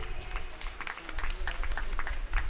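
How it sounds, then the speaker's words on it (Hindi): Applause from an audience after a short play at an Independence Day program in Rishabh Vihar, Delhi: fairly faint scattered clapping with distinct individual claps, moderately distant. "जोरदार तालियां एक बहुत ही खूबसूरत सी प्रस्तुति के लिए।"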